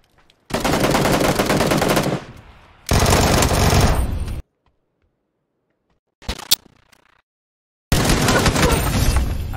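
Automatic gunfire in the battle-royale game PUBG: two long, loud sustained bursts, a brief sharp shot after a silent gap, then another long burst starting at the end.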